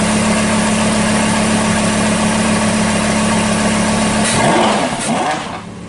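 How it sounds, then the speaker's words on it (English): A 2015 Lamborghini Huracan engine idles loudly just after start-up, a steady deep drone with a strong low hum that swells briefly near the end before easing off. "When you first turn on the vehicle, you have to let it to heat up."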